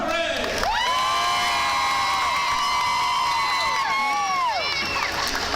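A crowd cheers and whoops loudly in a gym during player introductions at a varsity girls' basketball game, with a long sustained shout riding over the steady roar of the cheering section.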